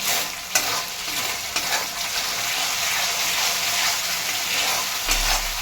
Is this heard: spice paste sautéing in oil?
yes